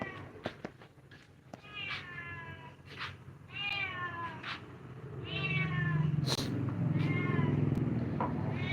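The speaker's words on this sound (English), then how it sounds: "Oh, cat." A cat meows repeatedly indoors, a series of close, clear, rising and falling cries spaced over several seconds, with a low rumbling hum building beneath the later calls.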